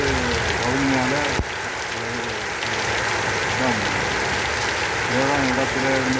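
Steady heavy rain pouring down in Vavuniya, a dense, constant hiss that fills the whole scene, with a voice speaking over it at times.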